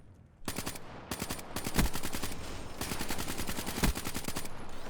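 Automatic gunfire in Call of Duty: Black Ops III multiplayer: long rapid bursts of shots hammering close and loud, with a couple of heavier impacts breaking up the steady stream of fire.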